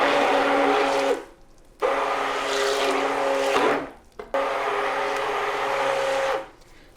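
A stick blender whirs through soap batter mixed with dry mica for an orange and cream sea salt soap, running in three steady bursts with short pauses between them.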